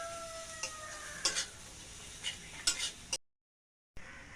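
Spices for egg curry being stirred in a pan with a spoon, a soft sizzle broken by several distinct scraping strokes, close and clear, then a brief silence before the sizzle resumes.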